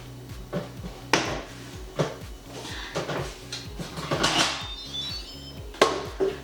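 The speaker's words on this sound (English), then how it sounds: "So now we're ready to put it in the Instapot, put the lid on it and start it up." Instant Pot being loaded and its lid fitted for cooking carnitas, a series of close, sharp clanks and knocks of metal and plastic in an irregular rhythm, with quieter rustling between the hits.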